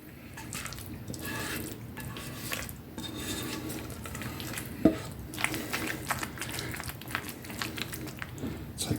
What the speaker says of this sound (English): we're going to transfer this over here to our dish. And we're going to get all this in here